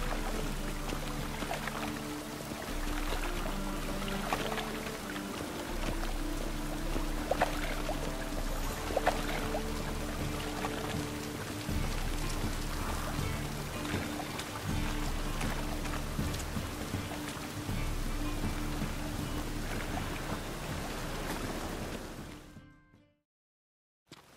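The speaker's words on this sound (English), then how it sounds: "Rain again." Steady rain in The Witcher 3: Wild Hunt, a continuous dense patter and trickle with a low rumbling bed, constant and unbroken for about twenty seconds before cutting out abruptly.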